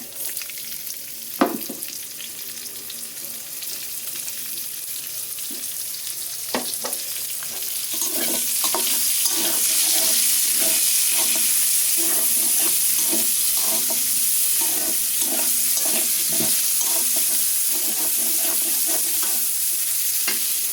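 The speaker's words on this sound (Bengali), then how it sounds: "পেঁয়াজ দিয়ে দিচ্ছি।" Onions sizzling in oil in a pan, first a low steady hiss with a few knocks, then louder frying with regular stirring and scraping strokes, close and without talk.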